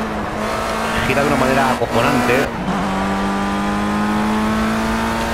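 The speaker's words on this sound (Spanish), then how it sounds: "Y parece que el motor, pues, nos iba a petar." A Formula Rookie open-wheel car in the Project CARS racing game at the Nürburgring, its engine holding a loud, steady high-pitched drone with a brief gear-change dip, close and continuous while someone speaks Spanish over it.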